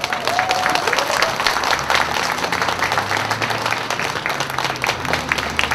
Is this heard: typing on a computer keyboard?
no